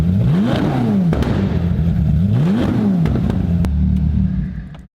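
With its rear silencer removed, a Ferrari 458 V8 revs hard twice, rising and falling in loud, deep sweeps, with popping crackles on the overrun before settling back to a rumbling idle.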